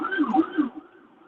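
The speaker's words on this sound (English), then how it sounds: "All right, somebody had a siren." A short wailing siren sweeps up and down in pitch, fairly loud, then fades out.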